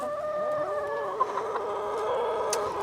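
Hens cluck and murmur softly at a moderate distance, a steady low chatter of chickens with a few brief sharper calls.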